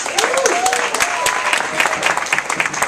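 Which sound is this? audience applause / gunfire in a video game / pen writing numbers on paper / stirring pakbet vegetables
audience applause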